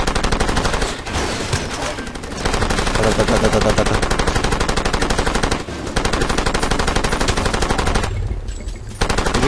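A mounted machine gun in the video game Far Cry 2 fires long, rapid, loud bursts, broken by a few short pauses.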